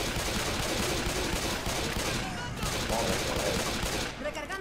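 Dense gunfire in the video game Left 4 Dead 2 includes pistol shots, crackling continuously throughout with faint voices mixed in.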